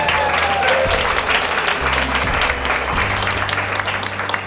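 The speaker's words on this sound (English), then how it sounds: "Let's give a round of applause for Evan, who's going to kick us off" Audience applause at a startup pitch event, a steady broadband wash of many hands clapping that fills the whole stretch at moderate loudness, with faint low hum beneath.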